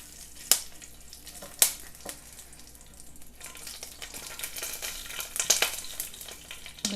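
Cinnamon, cardamom, cloves and bay leaves crackle in hot oil, with a couple of sharp pops early on, then a quieter sizzle that builds into a denser frying hiss.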